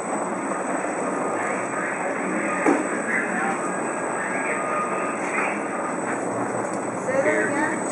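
A semi-automatic stretch wrapper turns its load while the film carriage rises, giving a continuous loud mechanical whir and hum with a steady high whine, and a voice speaks at times.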